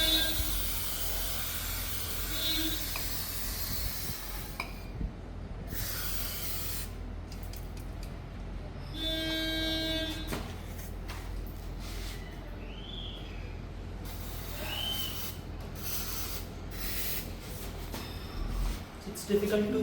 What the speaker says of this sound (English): It's difficult to lube it from the other side, so I have to go to the other side and lube the other part.